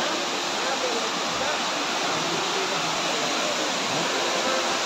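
Waterfall at Rajdari in Chandauli, flowing with a low volume of water: a steady, dense roar of falling water fills the scene continuously at close range.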